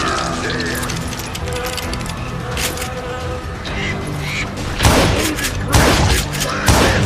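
Gunfire in the Western shooter game Call of Juarez: Gunslinger, with several sharp shots and booms standing out over a dense, busy game soundscape, loud and close, without clear talk.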